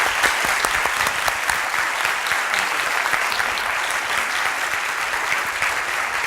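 An audience in an English-language course session gives Michelle a round of applause: loud, dense, continuous clapping from a roomful of people that holds at a steady level throughout, with no voices standing out.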